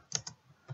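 A few keyboard keystrokes as a SQL select query is typed on a computer, close and quiet, with two quick clicks, a soft tap, then one more press after a pause.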